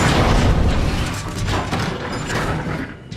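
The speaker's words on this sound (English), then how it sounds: "Blast the wall!" A wall is blasted open in the War for Cybertron video game: a loud, close explosion with a heavy rumbling boom, then crashing debris and rattling metal mechanisms that fade over about three seconds.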